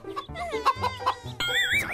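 A chicken clucks in a run of short, close clucks with a few higher squawks toward the end, fairly loud with no talking over it.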